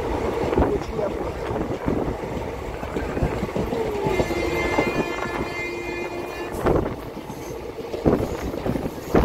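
Inside a moving passenger train in Kerala, a continuous rumbling clatter of wheels on track with periodic thumps, wind noise and a faint whining squeal in the middle.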